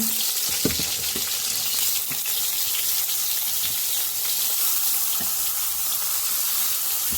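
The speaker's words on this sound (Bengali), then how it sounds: "বেগুন আমি ঘিয়েই ভেজে নেব।" Eggplant slices fry in ghee in a wok, giving a loud, steady, close-up crackling sizzle with a few small knocks of utensils throughout and no speech.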